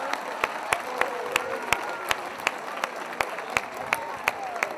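An audience at a gathering applauds, with a broad murmur of clapping and crowd noise under regular sharp claps that pulse in a steady rhythm, moderately near, while voices mingle in.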